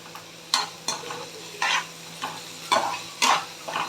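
Finely chopped onions hit hot oil in a kadai with fennel seeds, giving bursts of sizzling and the scrape of a spoon stirring, several uneven strokes close up with a low steady hiss between.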